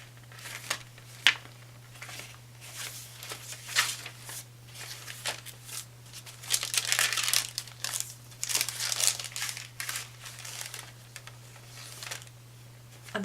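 Vintage Spanish book paper crinkles and rustles as it is handled for a swap journal, with irregular crisp crackles and soft shuffles close by and no talking, over a steady low hum.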